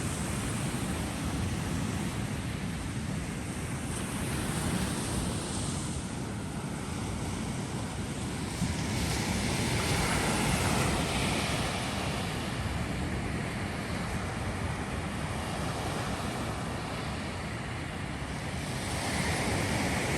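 Ocean surf rolls onto a beach near Moss Beach by Half Moon Bay, a continuous broad wash of breaking waves with gusts of wind buffeting the microphone.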